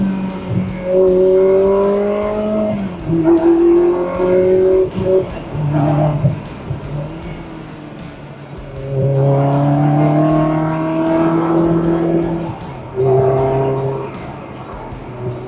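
A loud 2004 Ferrari 360 Spider engine with F1 paddle-shift transmission revs hard through rising gears, then drops pitch with a downshift, and surges again in strong, continuous acceleration.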